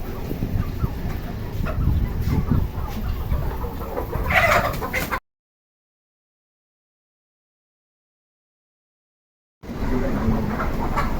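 Country chickens and guinea fowl clucking on a free-range native chicken farm in Ambattur amid busy outdoor background noise, with a stretch of total silence in the middle before the clucking resumes.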